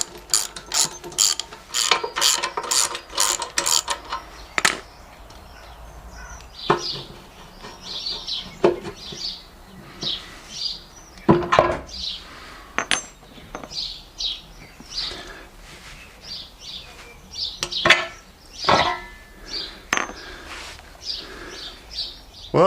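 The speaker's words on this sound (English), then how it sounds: "I've got to undo those and then tap out the two spindles" Bolts being undone and bucket spindles tapped out on a mini excavator, heard as bursts of rapid ratcheting clicks followed by scattered sharp metallic taps and knocks, close and fairly loud, with birds calling faintly in the background.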